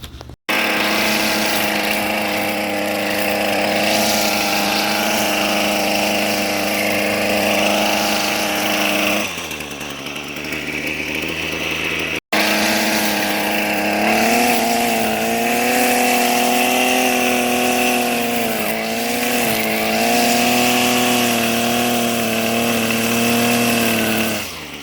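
A Shakespeare Ugly Head string trimmer runs continuously, its small engine buzzing loudly and close. The pitch dips once midway, there is a brief cutout, and then it picks back up to a steady high whine.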